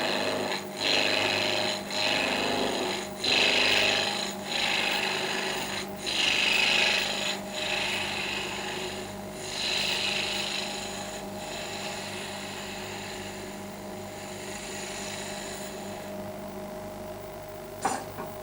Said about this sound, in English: we can now go back with our roughing gouge